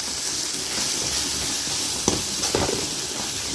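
A crab curry masala with chilli powder sautéing on a low flame. It gives a loud, even hiss of frying with a few faint spoon clicks in the second half.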